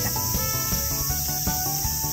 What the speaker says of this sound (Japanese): いろんな虫が寄ってきて。 蚊とアブとハチ